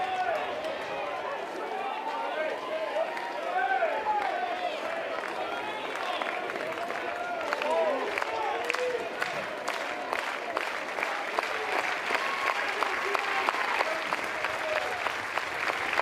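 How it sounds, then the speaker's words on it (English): Fans at a North Carolina college baseball game applaud and cheer in a broad stadium roar that swells toward the end, while an announcer talks over the crowd. "This is the most energized we've heard this North Carolina fan base over the last couple of innings."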